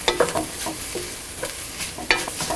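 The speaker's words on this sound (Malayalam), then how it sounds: "മുളക് പൊടി എല്ലാം കൂടി ഇട്ട് യോജിപ്പിക്കുക." Chili powder masala for a duck roast is stirred in a pan over a medium flame, with repeated scraping and clicking of the spoon over a close, continuous frying hiss.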